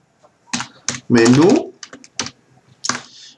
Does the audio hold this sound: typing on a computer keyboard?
yes